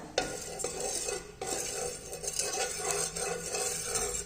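A little oil is spread around a hot pan, a bright continuous sizzle with scraping strokes and a brief pause, close and steady with no voice.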